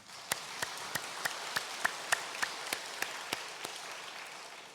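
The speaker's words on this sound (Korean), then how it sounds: "박수 한번 하겠습니다" A church congregation claps together in a steady, evenly spaced rhythm, about fifteen crisp claps in a row, fairly faint and slightly distant in a reverberant hall.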